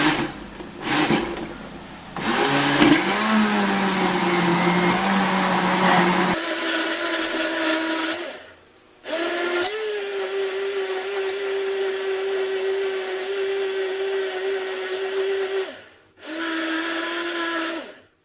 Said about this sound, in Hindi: चलिए इसको ग्राइंड करते हैं इंशाल्लाह। ये देखिए अब इसको ग्राइंड करना है हल्का